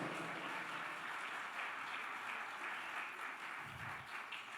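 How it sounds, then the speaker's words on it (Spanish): Church congregation applauding together, a steady, dense wash of clapping that fills the room at moderate level without pause, with no voices standing out above it. "Dale un fuerte aplauso al Señor."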